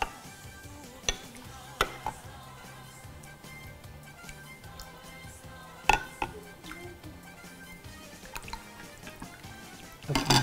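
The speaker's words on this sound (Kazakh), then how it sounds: "Енді осыған жаңағы езген құртты қосамыз." Dissolved mashed salty kurt is added to a pot of Nauryz kozhe, making wet drips and liquid splashes with scattered sharp clinks of a utensil against the pot, close and fairly quiet.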